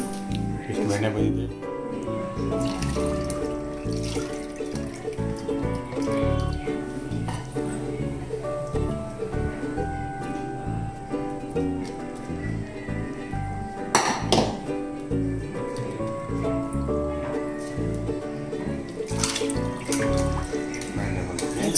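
Butter being rinsed by hand in water while making ghee at home, with steady splashing and sloshing under a voice talking throughout.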